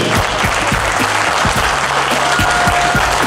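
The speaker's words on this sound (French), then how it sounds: "J'aimerais, mesdames et messieurs, qu'on applaudisse pour Aïcha Bédan" An audience at a gala applauds for Aïcha Bédan, steady close clapping from a crowd that holds at an even loudness throughout.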